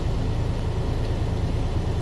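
Truck engine idling during a forced DEF regeneration with the cooling fan running, a steady low rumble with a whooshing airflow layer, close and continuous with no talk.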